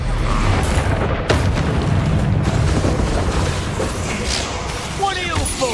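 The Expulso exploding spell in the Hogwarts Legacy video game bursts with a loud, booming blast and crackling debris while a voice calls out over the game's noisy combat.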